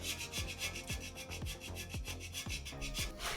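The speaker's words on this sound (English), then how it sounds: "We got a carbide scraper from Amazon that works like an absolute glove." Rhythmic rasping scrapes repeat about every half second, a carbide scraper dragged firmly across a Toyota 3RZ-FE cylinder head in steady back-and-forth strokes, close and loud.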